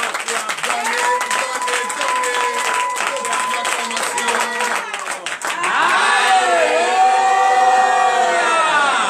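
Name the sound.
congregation acclaiming and clapping for Jesus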